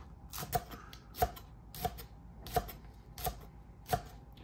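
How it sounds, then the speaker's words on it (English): Knife chopping spring onions on a cutting board, with six evenly spaced, crisp chops about two-thirds of a second apart, close and clear with no talking. "then we're just gonna do a nice chop on our spring onions"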